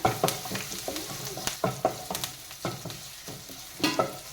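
Shallots, garlic and fenugreek fry in hot oil in a pan with a steady close sizzle, while a spoon stirs and scrapes against the pan in irregular bursts.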